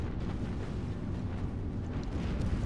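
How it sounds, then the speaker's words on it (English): Deep, rumbling battleship gunfire from a naval engagement off Guadalcanal in Battlestations Pacific, a dense, continuous low roar with no distinct separate shots. "Our own battleships have opened fire."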